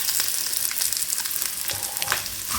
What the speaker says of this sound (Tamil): தேங்காய் பூ இதை நல்லா நம்ம வாசனை வர வரைக்கும் வறுத்துக்கணும்.